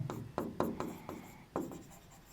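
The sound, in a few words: writing a math proof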